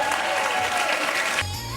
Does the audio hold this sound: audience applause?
yes